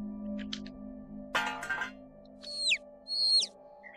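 Bird calls from the Angels of Death horror video game: two or three sharp rising-falling chirps late in the stretch, clear and fairly near over a low steady ambient hum, following a brief burst of rustling noise.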